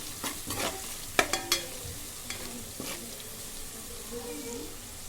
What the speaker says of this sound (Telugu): అల్లం వెల్లుల్లి పేస్ట్, పసుపు మంచిగా మిక్స్ చేసుకున్నాను